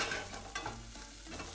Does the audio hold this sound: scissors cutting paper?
no